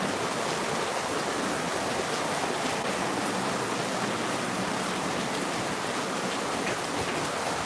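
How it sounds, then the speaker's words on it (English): Steady rain falling outside, a dense continuous hiss of drops on surfaces with no pauses, fairly loud and even throughout. "Sorry, it's raining here."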